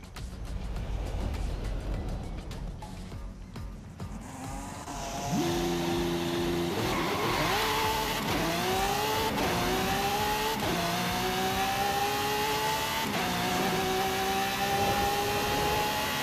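Lamborghini Diablo GTR in Forza Horizon 5 launching hard: a low idle swells into a loud engine wail that climbs in pitch, drops at each upshift, and climbs again through several gears, alone and close.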